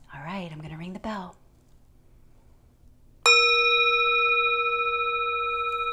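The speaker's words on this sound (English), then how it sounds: "All right, I'm gonna ring the bell." A single bell is struck once in a children's yoga class, ringing out bright and clear with a long, slowly fading sustain after a brief spoken line from a woman.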